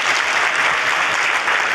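A church congregation claps loudly and continuously for Jesus Christ, a dense, even roar of many hands with no gaps and no voices on top.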